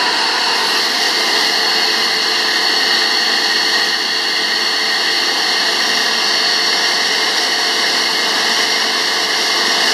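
A 2000 Haas VF3APC CNC vertical milling machine with its spindle spinning at 10,000 RPM, giving a loud, steady high-pitched whine and hum that stays constant and unbroken throughout, heard close up with no talking.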